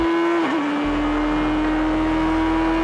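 A Radical race car's engine holds a steady high-pitched drone as the driver keeps the throttle flat on track, loud and constant with a brief dip in pitch near the start.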